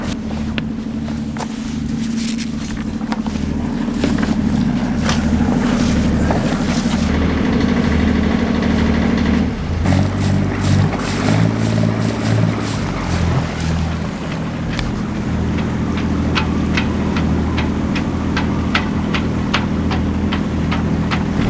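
Boat engine droning steadily while a customer's boat is moved across the water, with wind buffeting the microphone and a change in engine tone partway through, no speech.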